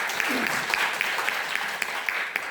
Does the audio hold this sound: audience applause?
yes